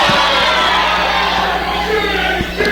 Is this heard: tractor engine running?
no